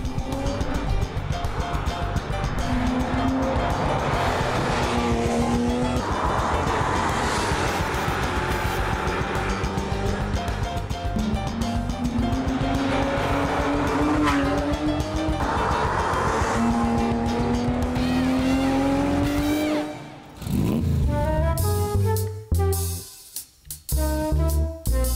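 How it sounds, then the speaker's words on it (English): A Porsche 911 GT3 drives hard with a loud, continuous engine note rising through the gears in repeated sweeps, with tire noise, before the sound abruptly drops away near the end. "Porsche 911 GT3, a classic of tomorrow"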